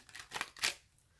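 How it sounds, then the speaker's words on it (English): Tarot cards are shuffled by hand during a reading, giving two or three quick, soft riffling bursts close up in an otherwise quiet room. "I have one more shuffle."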